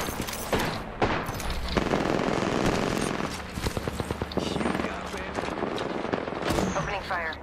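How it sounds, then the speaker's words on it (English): Gunfire in the Apex Legends video game, with dense bursts of shots and weapon effects rattling throughout amid other game sounds, loud and continuous, with a voice talking over parts of it. "Opening fire."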